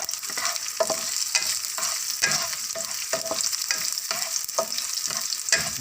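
Onions fry in a pan for pancit Cabagan, a loud close sizzle broken by repeated scraping strokes of a spatula stirring them at a steady rhythm, with no talking.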